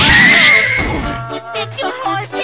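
A cartoon horse lets out a loud, drawn-out whinny that trails off, followed by a few shorter bursts of sound.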